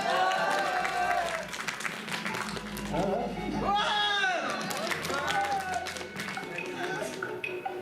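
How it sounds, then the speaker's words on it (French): Convention crowd at BronyDays 2015 applauding a banana cosplayer, scattered clapping under lively voices and excited cheering, with people talking close by throughout. "on va applaudir la petite banane"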